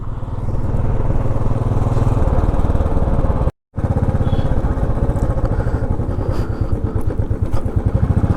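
Motorcycle engine droning steadily on a highway ride from Kolkata toward Keonjhar, loud and close throughout with a brief cut near the middle, no talking.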